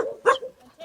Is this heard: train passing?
no